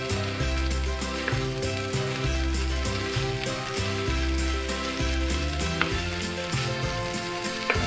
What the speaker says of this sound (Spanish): Revolvemos. Revolvemos así bien.